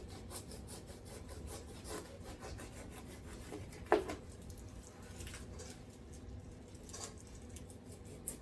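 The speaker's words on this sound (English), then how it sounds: "Basically, I'm just peeling the skin off." A knife peeling the tough skin off a whole pineapple, cutting fairly deep: repeated scraping, rasping strokes with a woody, fibrous texture, close and steady, with one sharper knock partway through.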